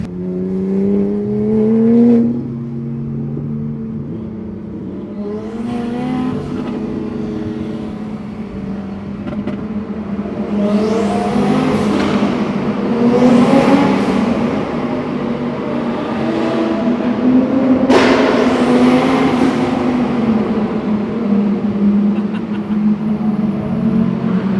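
A purple Porsche GT3 RS engine revs at a car week gathering, climbing through several rising pulls over a steady idle hum, close and loud with no talking.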